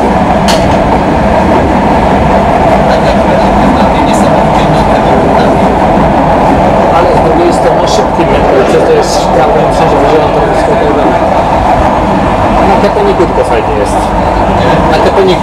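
An old tram on Cottbus line 4 clatters along its rails at full volume, with a steady rumble and rhythmic clicking of wheels over track joints throughout, and voices talking over it at times.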